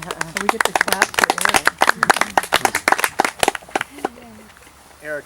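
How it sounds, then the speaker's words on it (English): Audience at a book presentation clapping in a lively burst of sharp, close hand claps that thin out toward the end, with a brief voice at the close. "We get to clap for"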